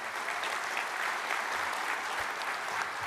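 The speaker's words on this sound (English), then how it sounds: "Give them one more round of applause if we can." Sustained applause from a large conference audience in a meeting hall, honouring the fire guard, a thick even wash of clapping that holds steady from start to finish with no voices over it.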